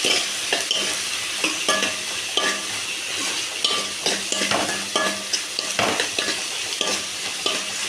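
Coconut, dried chilli, garlic and tamarind are stirred through onion and tomato in a hot pan, giving a steady close sizzle broken by repeated scraping strokes of a spoon against the pan.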